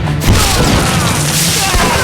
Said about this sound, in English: He picked up grenades and started hurling them wildly.